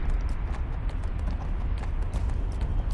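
Horse mount hooves in the video game Neverwinter: a steady, rapid clip-clop of hooves repeating throughout, loud and close over a low rumbling background, with no talk.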